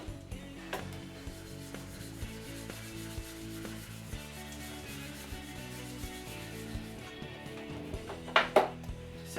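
A sharpening stone is rubbed back and forth across a lapping plate in quiet, regular gritty strokes, with a couple of sharper scraping clinks near the end.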